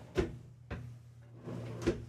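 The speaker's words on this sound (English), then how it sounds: "underneath you can see you've got nice storage with 3 full pull-out drawers" Pull-out storage drawers in a 2023 Newmar Ventana 4369 RV slide open and shut, with three distinct close-up thuds and rolling slides spaced across a quiet interior.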